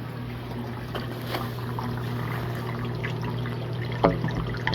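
Water bubbling and trickling in an aquarium bio pellet reactor on a reef tank, a steady low hum with continuous gurgling and a brief louder splash near the end.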